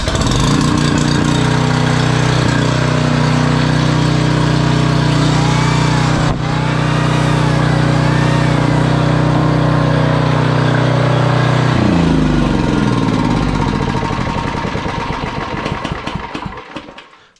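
A 5000-watt Generac portable generator engine, started for the first time in years, runs loudly and steadily at a constant drone, briefly straining mid-way, then its pitch drops as it winds down and cuts out near the end.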